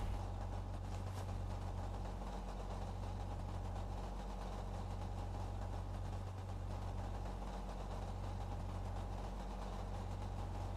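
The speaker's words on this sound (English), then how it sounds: "This is the loudest engine you will ever hear in any truck ever." A truck engine idles in the shooter game Dagger Directive, a steady low, droning rumble with a faint periodic throb and no voices over it.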